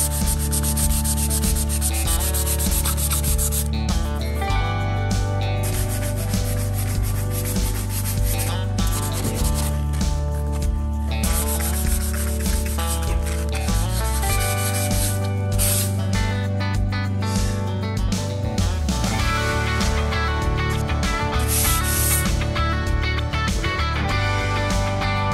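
Continuous close sanding of painted wood trim, a gritty rubbing hiss that goes on steadily, backed by a low droning hum throughout.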